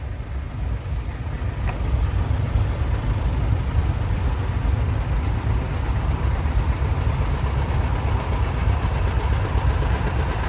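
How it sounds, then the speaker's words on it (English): A 1953 John Deere Model 60 tractor engine runs at a steady low throb during an antique tractor parade, holding an even, continuous drone throughout. "It's a 1953 John Deere Model 60, owned by Roger Herget out of Hamersville"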